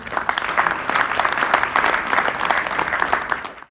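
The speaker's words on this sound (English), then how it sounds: "So give yourselves a big round of applause." A reception audience gives a sustained round of applause, dense clapping that stays steady and close before stopping abruptly at the end.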